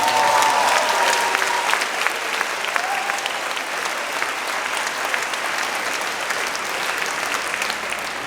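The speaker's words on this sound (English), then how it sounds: "And just clap it up for each other." Enthusiastic applause from a crowd at a vegan camp-out, loud and dense at first and then settling into steady clapping, with a couple of faint whistles or cheers near the start.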